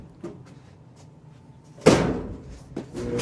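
A single solid thud of a clothes dryer door shutting, preceded by faint clicks and followed by a softer knock.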